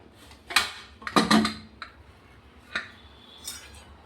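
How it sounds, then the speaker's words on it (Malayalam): A cooled pressure cooker being opened after cooking colocasia leaf curry, with a few sharp metallic clinks and taps of the lid and utensils spaced out over a quiet room. "ഇപ്പോൾ കുക്കർ തണുത്തിട്ടുണ്ടെന്ന് തുറന്നു നോക്കാം."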